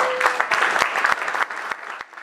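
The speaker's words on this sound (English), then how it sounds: "please give a warm round of applause for our sheriff" A crowd at a beachside surfer-themed restaurant on Pacific Coast Highway in Malibu applauds the sheriff, a burst of hand clapping with a few sharp distinct claps standing out, tapering slightly toward the end.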